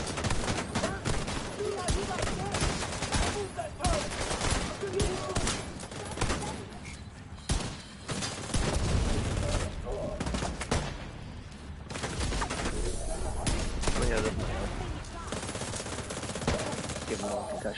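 Player's weapon fires repeatedly in The Division 2, loud rapid bursts and volleys of gunfire crackling nonstop, with a voice talking at points.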